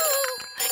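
A fire station telephone in a Peppa Pig cartoon gives a short, bright electronic ring, a brief trilling burst that fades and then briefly returns, loud and close.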